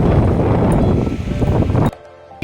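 Strong wind blowing outdoors in hot weather, a loud, steady broadband rush that buffets the microphone and then cuts off abruptly near the end.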